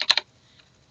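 Three quick, crisp keystrokes on a computer keyboard while a password is typed, close and clear, then near silence.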